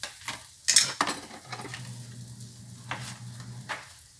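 Shrimp and snow peas (chicharo) sizzle in butter in a pan with browned garlic, with a steady low fry under several sharp clinks and scrapes of a utensil against the pan, and no talking.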